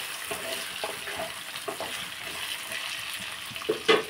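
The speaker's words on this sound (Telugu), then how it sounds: "ఒకసారి కలుపుకుందామండి." Frying vegetables in a pan are stirred with a utensil, giving a soft continuous sizzle broken by several scraping strokes and a couple of sharper clinks near the end, fairly quiet and with no talk.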